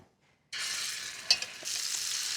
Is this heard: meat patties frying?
yes